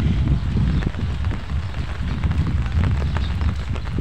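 Typhoon weather in Northern Samar, with light rain and gusting wind rumbling and buffeting close against the microphone in uneven surges, no voices.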